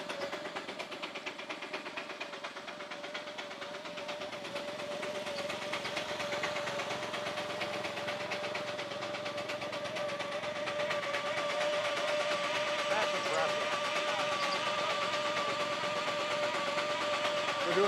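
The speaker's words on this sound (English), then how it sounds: "Now you get to hear just how loud these steam engines are." Steam engines running at a steam and gas show in Wisconsin, a steady loud mechanical drone with a sustained tonal hum throughout, growing slightly louder over time, with no talk.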